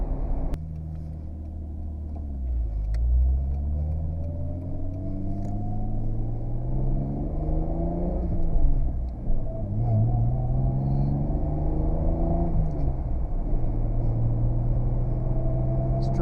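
A Toyota Supra's engine pulls steadily while driving through the gears, a continuous rising and falling motor drone heard from inside the cabin, with gear changes breaking the climbing pitch and no talk over it.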